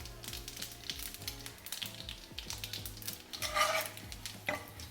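Mustard seeds, cumin, dried red chillies, curry leaves and turmeric tempering in hot oil for a raw mango pulusu, with busy stirring clatter and a sudden louder burst of crackling sizzle near the end.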